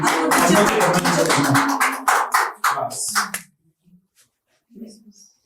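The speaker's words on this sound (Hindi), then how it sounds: "एक बार जोरदार ताली अभिनव जी के लिए" At a poetry recital, an audience applauds a poet: a burst of dense clapping that thins into a few scattered claps and fades out, leaving near silence with faint stray sounds.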